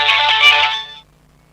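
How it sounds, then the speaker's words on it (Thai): A mobile phone ringtone for an incoming call plays loudly and close, a bright chiming melody lasting about a second before cutting off into near silence. "สายเข้าเด้อ"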